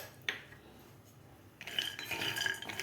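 Dry fruits being roasted in a kadhai over medium gas for jaggery peanut ladoos: a single sharp clink, then a stretch of scraping and rattling as the pieces are stirred against the metal.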